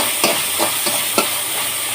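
A pan sizzles loudly and continuously as something is sautéed, while a few regular spatula scrapes and taps cut through the hiss.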